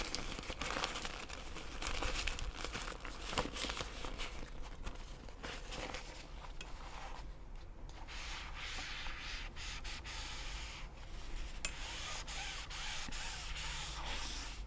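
A fabric storage bag for a Sunbeam Pro Steam travel iron is handled continuously nearby, with steady rustling, rubbing and crinkling and occasional sharper scuffs and folds, with no talking.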